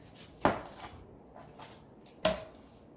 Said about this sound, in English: we're going to be cutting some vegetables for it, for the filling